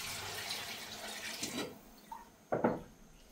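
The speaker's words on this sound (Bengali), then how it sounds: "এখন এর মধ্যে আমি দিয়ে দিচ্ছি পানি।" Water poured into a cooking pot of fried biryani spices, a faint, steady rush of liquid followed by a couple of short splashes, close by.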